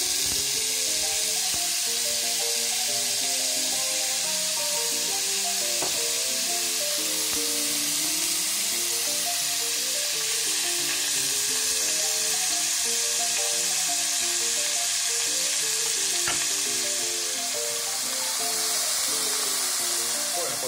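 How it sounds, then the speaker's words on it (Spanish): Prawns fry in a little oil in a casserole pan with a bright, continuous sizzle that stays steady and fairly loud, with faint melodic music playing underneath. "ahora vamos a hacer los langostinos. Con un poquito de aceite en una cazuela vamos a echarlos"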